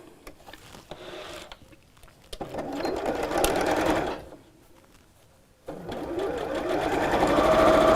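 Home sewing machine stitching a curved flap seam on a crossbody bag, a steady mechanical whir in two runs separated by a short quiet gap, close and moderately loud.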